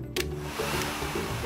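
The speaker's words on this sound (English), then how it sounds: "So we put the hairdryer on your head" A hair dryer blows a steady, loud, close whoosh of air after a brief click as it starts, with no voices over it.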